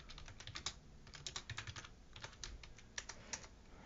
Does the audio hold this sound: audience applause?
no